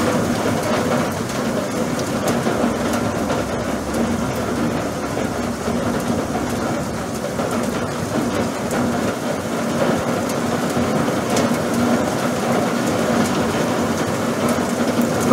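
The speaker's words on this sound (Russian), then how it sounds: "Наслаждайтесь хоть шумом дождя и видом." Heavy, steady rain pouring down as a dense, continuous hiss with a low rumble beneath, loud and unbroken throughout.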